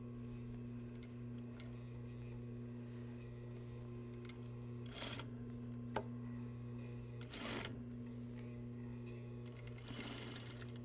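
A sewing machine stitches a shoulder seam on a garment, beginning and ending with a back tack, running as a steady continuous mechanical hum with a few brief louder bursts and clicks.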